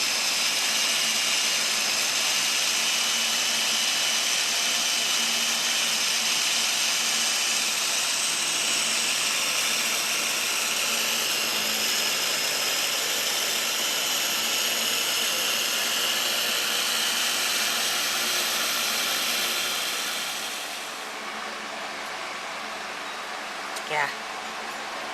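A food processor runs steadily while churning cream into butter, a loud, continuous whirring roar that holds for about twenty seconds before dropping off, followed by a brief quieter stretch with a small knock.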